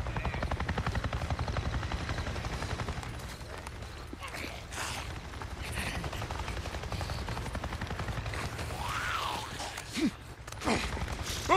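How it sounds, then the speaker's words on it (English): Helicopter passing overhead in the Days Gone video game, a steady loud rotor drone filling the clip with gunfire-like bursts and sounds of movement layered over it. "I just saw a goddamn chopper! A chopper? What are you talking about? A Nero chopper! It just buzzed right over me."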